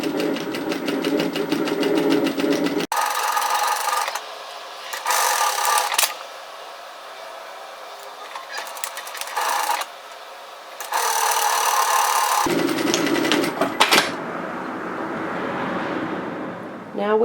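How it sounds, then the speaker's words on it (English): A home sewing machine runs in several bursts stitching the curved edge of a fabric face mask, steady whirring stretches separated by pauses, with a voice talking between and over them. "Then we're going to sew this curve edge here."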